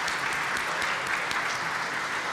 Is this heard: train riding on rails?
no